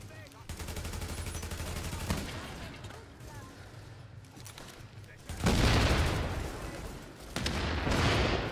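Gunfire in the video game The Division, with dense automatic bursts and fusillades running throughout, loudest in two heavy stretches near the end, under a steady game background.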